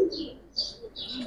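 Pigeons coo at a pigeon market, with a few soft rounded calls and brief chirps at moderate distance, separated by short pauses.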